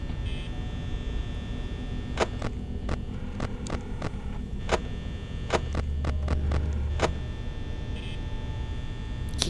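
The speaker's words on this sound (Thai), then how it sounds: "พยายามฟังเสียงมันเนี่ย เสียงเปิดกล้องดังมากเลย" A low, steady electrical hum from the security camera monitor in Five Nights at Freddy's drones quietly throughout, broken by a series of sharp, brief clicks and ticks scattered across the middle.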